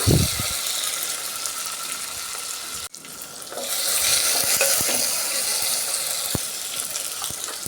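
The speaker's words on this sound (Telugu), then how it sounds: "మనం కట్ చేసుకున్న టమోటా ముక్కలు వేసేసుకుందాం ఇది కూడా ఒక్క నిమిషం పాటు కొద్దిగా మెత్తబడేంత వరకు కలుపుకుంటూ మనం మగ్గించుకోవాలి" Chopped tomato pieces stirred in a hot pan for a tangy taro-root stew, with steady frying sizzle and scraping spoon strokes, a brief pause near the middle, then louder continued sizzling.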